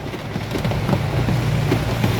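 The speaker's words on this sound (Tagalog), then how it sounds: "Malakas ang ulan." Heavy rain pours steadily in a continuous broadband wash with a low rumbling undertone and scattered louder drops, heard from shelter along a bypass road at night.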